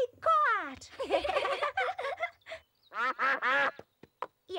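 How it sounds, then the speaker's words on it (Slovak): Cartoon ducks in a Peppa Pig episode quack in quick bursts near a picnic, loud and close, with a voice speaking alongside the calls. "Aha, to sú kačky."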